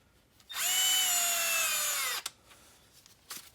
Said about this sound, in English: To an electric screwdriver here, and I have it set on the lowest torque setting so it just spins them into place.